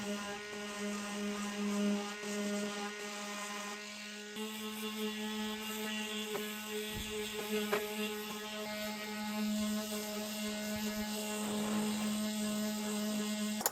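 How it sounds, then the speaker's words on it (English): A multi-tool sanding a vintage wooden dresser makes a steady, high-pitched mechanical whine with a strong buzzing hum throughout, close and continuous, with slight changes in pitch as the tool works. "I also used my multi-tool to sand where these two edges met"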